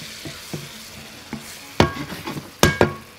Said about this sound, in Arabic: كده حطينا الكبده بعد ما البصله كرملت